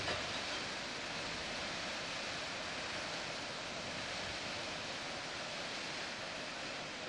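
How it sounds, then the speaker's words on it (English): A waterfall right in the town of Warwick makes a steady, broad rushing hiss with no breaks, faint and even throughout, like distant falling water. "There's a waterfall right in the town of Warwick."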